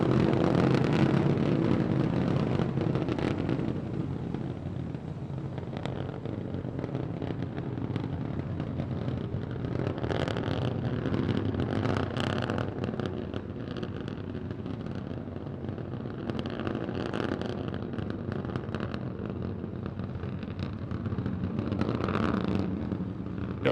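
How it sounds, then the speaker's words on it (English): Continuous loud, broadband roar of three SpaceX Raptor engines burning steadily as Starship SN15 climbs on a high-altitude test flight, a dense rumbling wash with no pauses. "All 3 Raptor engines continuing to burn."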